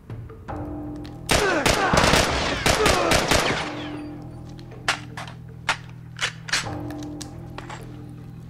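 Gunfire in The Last of Us cracks out close and loud as a rapid volley of sharp shots, followed by scattered single shots spaced a second or so apart.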